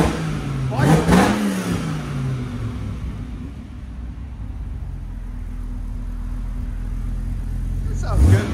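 A 2004 Dodge Ram SRT-10 with an 8.3L V10 and Magnaflow exhaust revs hard twice, with a sharp climb near the start and another at the end, and a steady deep idle rumbling in between.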